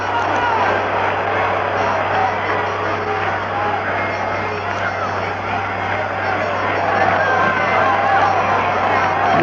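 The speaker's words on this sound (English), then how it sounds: "This crowd is yelling themselves hoarse tonight." Loud, dense roar of a baseball stadium crowd yelling at a 1977 American League playoff game between the Yankees and Royals, a steady wall of cheering and babble under continuous radio play-by-play talk.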